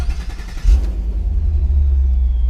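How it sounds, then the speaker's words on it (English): A vehicle engine cranks briefly with a rapid churning, then catches and settles into a loud, low, steady idle rumble close by. "engine cranked a little bit longer than you would expect"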